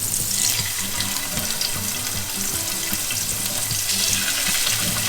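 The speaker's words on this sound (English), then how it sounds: "we're gonna take our fish fillets and go ahead and add them on about a medium heat" Fish fillets fry over medium heat in a pan with a little olive oil, giving a steady, loud, hissing sizzle that carries on without a break.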